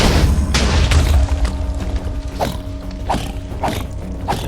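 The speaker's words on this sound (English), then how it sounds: "So this is what Spark Bomb is. It's just a little explosion type thing." A small spark bomb blowing up in a video game, with a loud low boom at the start followed by mechanical clanks and ratcheting clicks under a steady tonal hum.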